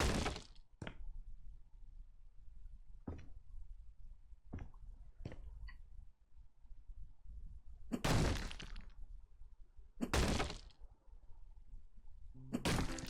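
Wall being demolished in the video game House Flipper 2: a series of loud, broad smashing and crumbling impacts with sharp thuds between them, spaced irregularly and heard alone.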